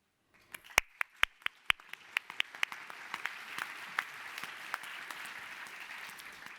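Audience applause at a panel discussion with Stephan Schwarz, Francesca Bria and Niklas Maak, starting with a few sharp separate claps that quickly build into steady, moderately loud clapping from a hall crowd.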